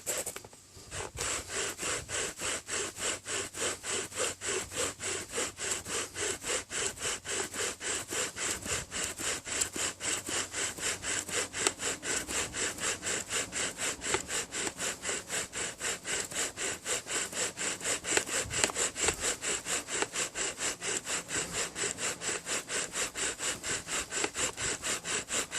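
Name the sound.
wooden bow drill spindle spinning on crepe myrtle board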